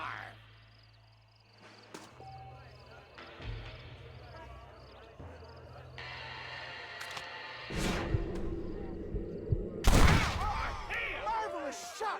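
Gunfire in Red Dead Redemption Remaster, scattered shots and bursts among footsteps and game noise, with a loud blast near the end; voices talk over parts of the scene.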